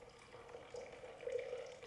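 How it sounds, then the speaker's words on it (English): Water being poured to fill a pitcher halfway with Kangen water, a soft, quiet trickling and dripping stream that grows slightly louder toward the end, with no voices. "Get this pitcher filled up here."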